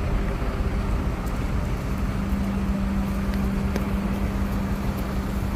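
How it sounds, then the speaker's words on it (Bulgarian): Heavy machinery rumbles steadily as mobile cranes and trucks work to set up a Christmas market in Prague in November, a continuous low engine drone with a sustained hum, fairly close, with no talking. "Вишки, автокранове, камиони."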